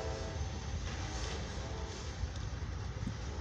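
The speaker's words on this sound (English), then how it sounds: "this has been a CFE mixed freight train" An eastbound CFE mixed freight train rumbles past at a Van Wert, Ohio crossing, a loud, steady roar of rolling cars with faint rail clatter and no talk.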